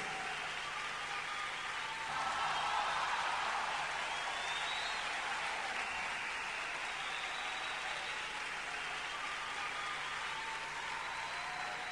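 Applause for the band Los Jaivas at the Copihue de Oro 2011 awards, a steady, fairly distant wash of clapping from a large audience that continues evenly without pause and sits quietly in the mix.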